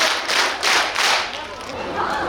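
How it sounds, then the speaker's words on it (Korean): A festival crowd claps in unison on cue at a salmon festival stage, several loud rhythmic group claps in quick succession, then fading into crowd murmur. "박수 네 번 시작!"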